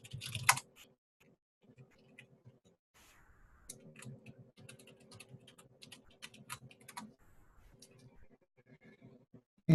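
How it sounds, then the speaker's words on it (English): Password being typed on a computer keyboard: a burst of quick, light key clicks in an irregular rhythm, close and fairly quiet, with short pauses between runs and no talking. "I'm going to type in my password here."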